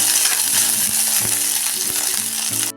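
Curry leaves and green chillies sautéing in a pan, a loud, close, continuous sizzle with stirring scrapes, no voices.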